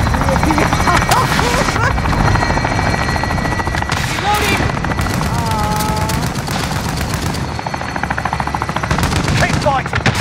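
A chopper gunner helicopter in a video game fires loud, continuous machine-gun bursts over a steady rotor roar, with a constant barrage of gunfire throughout and busy combat noise in the mix.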